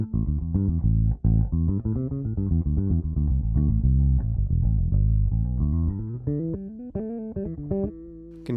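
An Ibanez bass guitar with its preamp tone turned fully dark plays a steady run of warm, muffled low notes with no bright top end, close and alone, ending on a few sustained tones.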